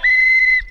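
A referee's whistle gives one short, shrill blast lasting under a second, loud and close, during a casual amateur football match.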